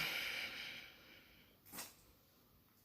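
A person snorts and sniffs through a congested nose in one short, sharp burst partway through, close and fairly loud against a quiet room with a faint hiss.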